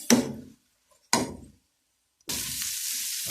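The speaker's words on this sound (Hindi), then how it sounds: "अंडे को करेंगे हम अच्छे से मिक्स" Egg omelette mixture frying and being stirred in a pan, two sharp sizzling bursts that die away quickly, then a steady loud hiss of frying that continues to the end.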